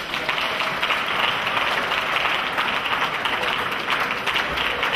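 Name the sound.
congregation clapping hands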